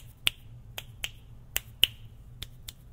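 Crisp finger snaps, about ten of them, spaced irregularly against a quiet low hum, close and clear.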